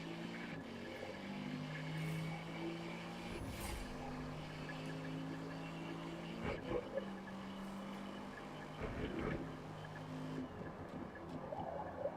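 Race car engine in a racing video game, a steady mid-loudness drone with gear shifts and revving surges, continuing without a break.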